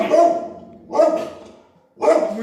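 A small female dog barks three times, close and loud, each bark with a short yelping tail and about a second apart.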